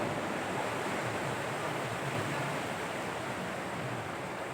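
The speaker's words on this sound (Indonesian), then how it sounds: "pantai sini yang di depan ini berbatasan langsung dengan Samudra Hindia. Jadi ombaknya cukup besar." Large Indian Ocean waves breaking on a beach, a steady, loud, unbroken roar of surf with a constant wash of broadband noise and no voices.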